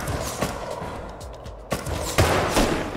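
Gunfire from bots below in the survival game Rust: a few sharp, fairly loud bangs and crackling bursts spread across a few seconds over a busy, noisy background, with no talking.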